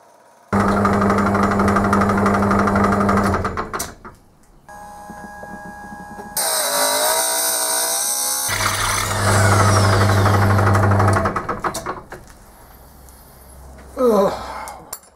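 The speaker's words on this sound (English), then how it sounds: "Plan D for drill press." A drill press motor whines and grinds while drilling metal in loud sustained bursts with pitch shifts, stopping and restarting, with harsh metallic screeching between runs.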